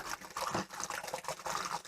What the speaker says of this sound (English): Now as it's pouring in, it is aerating.